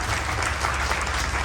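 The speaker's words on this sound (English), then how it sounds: "Another round of applause for them." Audience at a Hindu temple Ramayan Yagna gathering in Orlando claps in a brief, dense, steady burst of applause, close and loud, with no speech over it.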